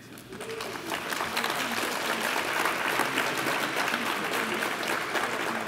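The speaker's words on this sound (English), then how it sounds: "We can get a nice round of applause." A crowd applauds at a scholars' awards dinner: clapping swells in over the first second, then stays full and continuous from many people in the room.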